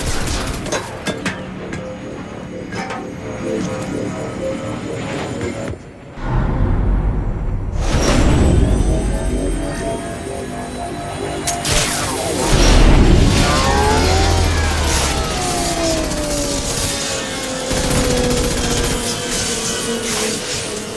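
Mass Effect 2 combat against a gunship fills the scene: dense gunfire, heavy booms and whooshing blasts layered continuously with mechanical clatter, loud and chaotic throughout.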